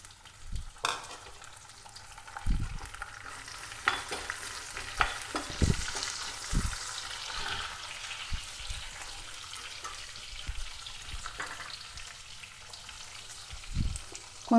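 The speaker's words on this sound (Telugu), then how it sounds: "ఉల్లిగడ్డలు, పచ్చిమిర్చి 2 వేసేస్తున్నా." Onions and green chillies added to hot oil with tempering spices and fried for pepper chicken fry, stirred now and then: a soft, steady sizzle with intermittent scrapes and clatters, fairly quiet and close.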